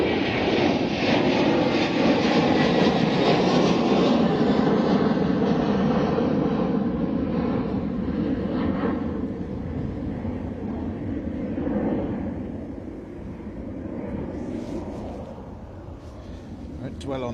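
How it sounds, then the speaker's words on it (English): A helicopter coming in to land at Bristol Airport, a loud, steady engine and rotor roar that fills the scene and slowly fades away, with a voice talking faintly underneath. "Won't dwell on that, because I think it's a helicopter coming in"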